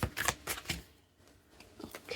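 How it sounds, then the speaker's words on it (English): Tarot cards are shuffled by hand in quick riffling bursts, a flurry of papery flutters, a brief pause, then another shuffle near the end, close and clear without talk. "Two more shuffles."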